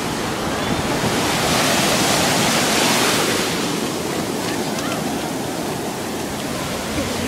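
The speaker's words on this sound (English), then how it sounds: "I can feel the sand getting pulled out from under my feet and the waves drag back into the ocean." Ocean waves washing over the sand at Miramar Beach, a steady, loud roar of surf with broad hiss and no break, close by and alone without any talking.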